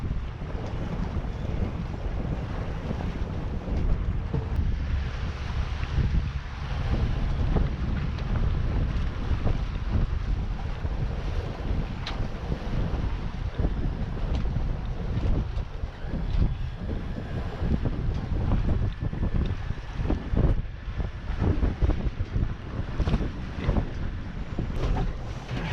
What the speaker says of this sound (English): Now we're sailing.